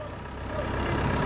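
A Lovol 504 PRO tractor engine runs steadily at close range with front-axle drive engaged, a dense low rumble that grows slightly louder toward the end.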